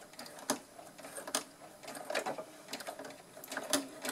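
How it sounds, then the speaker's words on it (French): A domestic sewing machine runs a straight stitch along fabric for a zipped storage pouch, in short quiet bursts of rapid whirring with brief pauses between, close and alone without talk. "Voilà, c'est parti pour la couture. On n'oublie pas le point d'arrêt."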